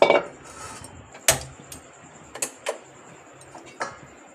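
A wok of water is set down on a gas stove in a home kitchen, giving a few sharp metallic clanks and knocks spread across a quiet background, with no talking.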